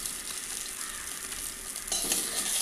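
Small fish frying in hot oil in a pan, a steady dense sizzle with crackling that grows slightly louder near the end, close and continuous with no talking.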